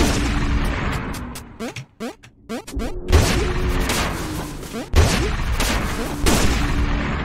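Loud rapid gunfire blasts from the Pizza Tower video game as Pizza Face is shot, dense bursts of shots and crashing impacts in quick succession, with a brief choppy pause before the volleys resume.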